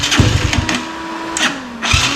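A small Tao Tao 250 YFZ ATV engine cranks and sputters in short bursts, briefly catching with a steady hum before dying back, close by.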